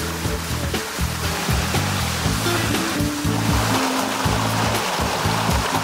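Water rushes through the sluice of a watermill, De Bovenste Plasmolen, down the upper stream into the collecting basin: a continuous loud roar of flowing water, close by, with low tonal music-like hums underneath.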